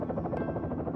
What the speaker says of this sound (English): The reunion is interrupted almost immediately as a helicopter has landed on the roof.